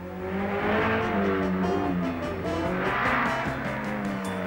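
Porsche 904 GTS rally car racing hard on a snowy road, its engine revving loudly and rising and falling in pitch as it accelerates, with tire noise underneath and no speech.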